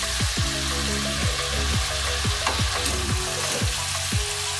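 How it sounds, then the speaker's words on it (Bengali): Raw banana is stir-fried with spices in a hot pan, giving a constant loud sizzle of oil broken by a steady rhythm of scraping stirs, close and with no voices. "কলা দিয়ে দিলাম, এখন আমরা কলাটাকে কষাবো ভালো মতো নেড়ে চেড়ে।"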